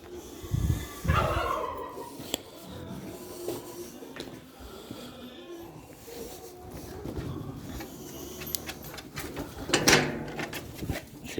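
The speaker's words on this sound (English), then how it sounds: "Chickens." A flock of about twenty chickens on a ranch clucks and calls in soft, scattered bursts, with a louder squawk near the end and faint background clatter.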